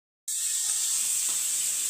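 Bangda mackerel frying in a pan sets off a sudden, steady hiss of sizzling oil that starts after a brief silence and carries on evenly at moderate volume.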